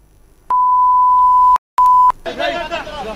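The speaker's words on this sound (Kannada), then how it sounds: "ನೀವು ಆ ಬೀಪ್ ಸೌಂಡ್ ಅನ್ನು ಕೇಳಬಹುದು" A censorship bleep covers abusive words shouted at a road toll plaza near Nelamangala: a loud, pure steady tone lasts about a second, then a short second bleep follows, and a voice continues talking afterward.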